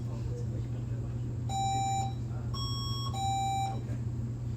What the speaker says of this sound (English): let's do a buzzer check